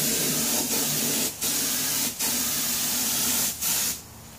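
Spray paint hisses steadily as a garden tractor wheel with its tire still mounted is coated, a loud continuous spray broken by a few brief pauses before it stops.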